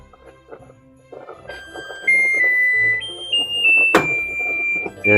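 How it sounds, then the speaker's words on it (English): An alarm sounds in a kitchen during cooking as a thickening mixture heats, with a series of electronic tones that step upward in pitch over a few seconds and then a sharp burst, fairly loud, with no talk. "There's the alarm."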